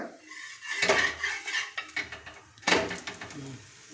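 A spatula scrapes and clatters against a pan while flipping a paruppu adai, a lentil pancake, with two louder metallic scrapes among lighter clinks and taps, close up and without speech.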